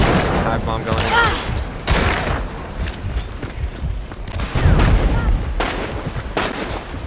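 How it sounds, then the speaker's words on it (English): A hive bomb detonating amid bursts of gunfire in a tactical shooter video game, loud repeated booms and rapid volleys close by, with players talking over the action. "Hive bomb going in."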